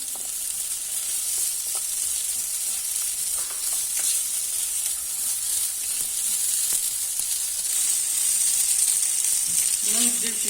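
Sausages fry in hot oil with a steady, loud sizzle throughout, while occasional scrapes and clicks from stirring break through near the end as they are turned to coat every side.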